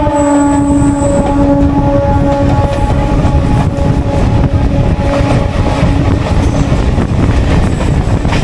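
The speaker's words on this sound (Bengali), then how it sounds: "আর এই ট্রেনে করে এখন আমরা বাগান অবধি যাবো।" A Howrah to Bagnan local passenger train rumbles loudly and steadily from on board, with continuous wheel and track roar, faint clatter, and sustained squealing tones from the wheels.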